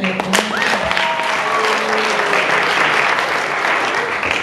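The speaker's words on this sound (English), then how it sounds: "We can clap for them?" Studio audience at a comedy improv show applauds the performers, a loud, dense burst of clapping that holds steady for several seconds with a few cheers and whistles near the start.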